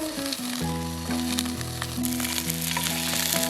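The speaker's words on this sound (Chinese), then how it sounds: "我准备把这个烤肠给煎了，这里面有 cheese。" Cheese-filled sausages fry in a pan at a lakeside campsite, giving a steady, soft sizzle under background music that continues throughout.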